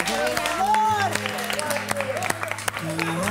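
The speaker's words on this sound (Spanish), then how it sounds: "Sí, aplauso, aplauso" Audience applause at a live Spanish-language event, steady clapping spread through the crowd while music plays and a voice carries on over it.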